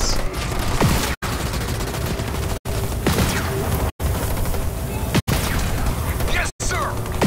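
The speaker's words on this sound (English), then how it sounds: "I'm receiving fire from enemy ground troops!" Halo Wars 2 battle audio with enemy ground troops firing in a dense, continuous fusillade of crackling shots and bursts. Voices and unit chatter sound over it, and the sound cuts out briefly several times at regular intervals.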